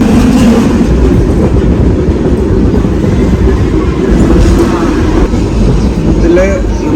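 A Hong Kong tram runs along the street with a loud, close, continuous rumble and rattle that stays steady throughout.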